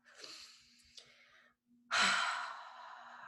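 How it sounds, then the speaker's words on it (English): A slow, deep breath taken during a guided tapping relaxation exercise: a soft, airy inhale, a short pause, then a louder, longer exhale, close and quiet. "let's just say together, deep breath"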